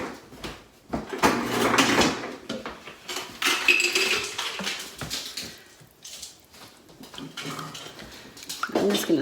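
A spoon stirring stuffed pepper soup in an Instant Pot, with repeated scraping and clinking of metal against the pot, close by, amid intermittent rattles and bumps in a kitchen.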